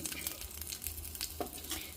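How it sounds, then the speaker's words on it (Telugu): Faint, continuous sizzling hiss of a spice tempering frying in oil for gooseberry pickle, with soft scraping of a spoon stirring, over a low background hum. "సో ఇది నేను పోపు వేసేస్తాను ఇందులో పోపు కొంచెం వేగగానే"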